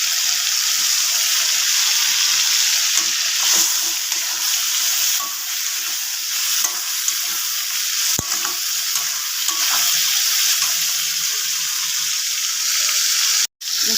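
Fish fries in a pan with a steady, close, loud hiss of hot oil and occasional stirring scrapes, ending in a sharp clatter.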